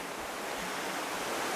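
Water pours steadily over a waterfall outdoors, heard as a dense, even rush of broadband noise at moderate distance, with no voices.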